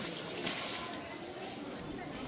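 Washing water from cooking prep is poured out onto plants outdoors, a steady splashing liquid rush lasting a couple of seconds at moderate level.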